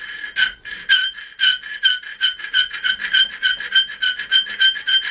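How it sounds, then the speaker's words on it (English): Repeated rasping strokes of a rat-tail file on metal, a steady back-and-forth rhythm of about fifteen quick scrapes with a whistling squeak, close up and alone. "this is where the little rat tail slash chainsaw file comes in handy"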